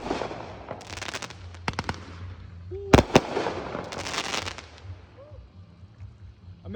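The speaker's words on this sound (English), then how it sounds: "I started recording when I started lighting off mortars." Firework mortars burst during a large 4th of July display, with a series of loud sharp bangs and crackling bursts, one especially strong blast near the middle, set against background crowd noise and some talking.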